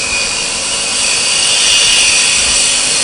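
A turning tool cuts spalted wood spinning on a lathe, giving a steady, bright hiss of the blade shaving the surface, close and continuous with a slight swell near the end.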